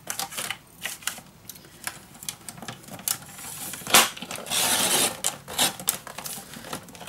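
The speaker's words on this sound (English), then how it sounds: "And now I'm going to cut this right away." Scissors or a paper trimmer cutting paper for a handmade mini album, a series of close, crisp snips and slicing strokes in an irregular rhythm with no talking.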